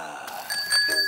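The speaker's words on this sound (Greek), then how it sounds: "Και αυτό είναι το κουδούνι." A cartoon bicycle bell rings with bright repeated metallic dings, loud and close, following a short stretch of voices and background music in an animated children's show.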